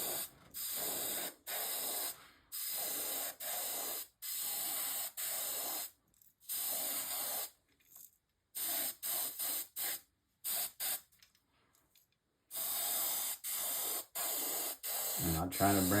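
An airbrush or spray can hisses paint onto a fishing lure in repeated bursts of a second or two, separated by short silences, the hiss close and steady while it runs, with no talk during the sprays.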